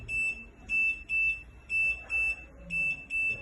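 An infant warming table with phototherapy, powered on with a defective sensor, sounds its alarm as a series of about seven short, shrill electronic beeps in a regular on-off rhythm, clear and close.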